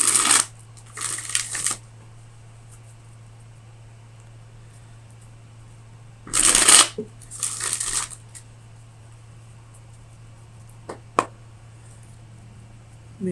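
A deck of tarot cards is shuffled during a love reading, with several quick papery riffling bursts separated by pauses and a couple of sharp card taps near the end, all close and fairly quiet over a steady low hum.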